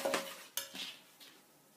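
Eggs, milk and sugar are beaten in a bowl with a few soft, brief clinks and scrapes of a utensil against the bowl, quiet and close.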